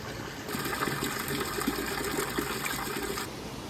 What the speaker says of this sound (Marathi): इथे जे हे पाणी येतं नंदीच्या तोंडातून, निव्वळ स्वच्छ आणि गोड पाणी असतं.